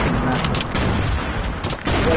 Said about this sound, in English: They're fucking grenading me though